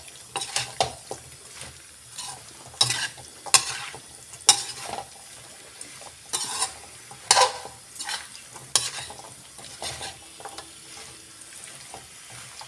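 Mixed vegetables get stirred and tossed in a pan over high heat, with a soft sizzle under repeated spatula scrapes and clinks against the metal in an irregular rhythm, close by and with no talk.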